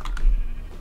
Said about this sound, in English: This goat thing was attacking me.